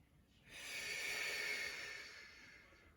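A long, steady exhale during a Pilates session swells in and fades slowly, breathy and close, with no talking over it.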